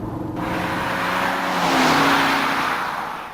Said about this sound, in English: try some upshifts at 3/4 throttle to feel the new firmness